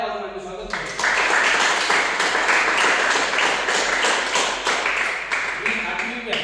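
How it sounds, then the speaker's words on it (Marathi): An audience claps steadily at a youth training and development program, a dense sustained round of applause that starts abruptly after a brief moment and continues at full strength to the end. "टाळ्या वाजवण्याचे स्वागत करतो"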